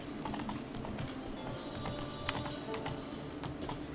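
Roach the horse galloping in The Witcher 3 video game, a fast continuous clip-clop of hooves on the ground, steady and close, running through the whole stretch with no talk.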